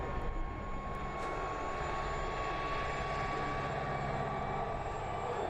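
A light, nimble aircraft makes a pass at an air display, its engine a steady, continuous drone with a sustained tone, moderately loud and unchanging across the stretch.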